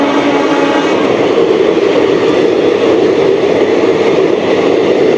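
Sealdah–Ballia Express pulling into a station platform in the Sealdah area, a loud, close, continuous rolling rumble of wheels and carriages with a steady metallic drone, heard with no speech over it.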